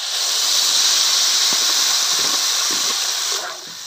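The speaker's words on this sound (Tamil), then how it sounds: "இதை நல்லா வதக்கிக்கிறோம் வானலில் ஊற்றி." Cashew nut paste sautéing in a pan for cashew halwa, giving a loud, steady hiss and sizzle with faint bubbling pops throughout.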